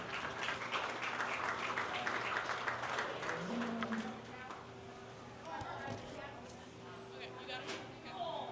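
Audience applause at a beef cattle show in a large arena, steady clapping that rings through the hall for several seconds before fading, with a voice speaking over it.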